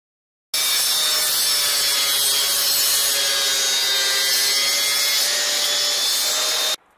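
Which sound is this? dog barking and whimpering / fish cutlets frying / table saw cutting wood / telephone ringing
table saw cutting wood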